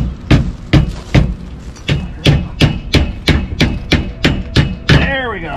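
Sharp metallic hammer taps drive a part of a MORryde CRE3000 RV suspension into place, about a dozen loud, evenly spaced strikes close by, each ringing briefly before the next; no speech.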